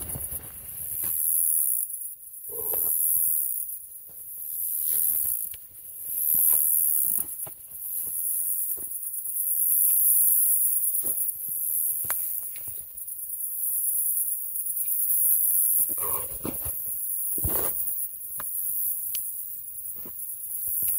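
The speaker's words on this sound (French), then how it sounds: "c'est fort les grillons là" A dense, continuous high-pitched chorus of crickets in tall grass fills the background loudly, with scattered footsteps and rustling closer by.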